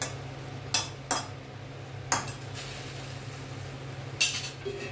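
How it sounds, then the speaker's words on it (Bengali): Okra and potatoes being tossed with spices in a pan, a few sharp utensil clinks and scrapes spaced apart over a steady low hum, no talking. "এবার এগুলো মশলাগুলো ঢেঁড়স আর আলুর সঙ্গে মিশিয়ে দিচ্ছি।"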